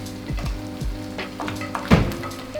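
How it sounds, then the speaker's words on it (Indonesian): Crispy fried squid is stirred through Padang sauce in a pan, giving a soft sizzle with scraping and clacking from the utensil in a few irregular strokes, close up and without any voices. "Ini kita aduk sampai sausnya merata"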